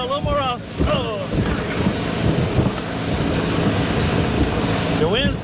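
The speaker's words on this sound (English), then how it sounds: "The wind's picked up a little bit." Wind rushes steadily across an open boat cruising on the Mississippi River, a 1973 Cobalt with a Mercruiser 165 hp engine, its broadband roar mixed with engine and water noise and brief voices heard faintly near the start and end.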